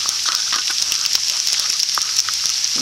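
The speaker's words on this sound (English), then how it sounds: "And here it's sizzling." Chicken frying in a pan for teriyaki chicken gives a steady, close hiss of sizzling with small crackles and pops scattered throughout, and no voices.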